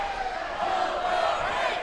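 A wrestling arena crowd at a championship event keeps up a steady roar of cheering and chanting, dense and sustained throughout without breaks.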